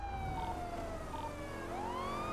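Wailing emergency siren on an ambulance in a GTA roleplay game, a steady looping electronic tone that sweeps down and then rises again, loud and close over a continuous low rumble of traffic and engine noise, with no voices.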